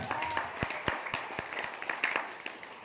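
A seminar audience claps at moderate volume, with a few distinct sharp claps standing out over a scattered, uneven patter.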